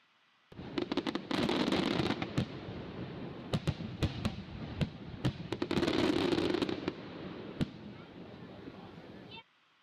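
Fireworks burst near the Rhine Falls in Switzerland, rapid crackling volleys and sharp pops in two dense bursts separated by scattered single bangs, with faint voices in the crowd between.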